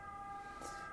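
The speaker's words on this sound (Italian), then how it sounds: "in questo momento c'è l'ambulanza fuori che dà fastidio" An ambulance siren sounds outside as a faint, steady, held wailing tone heard from a distance indoors, with no voices.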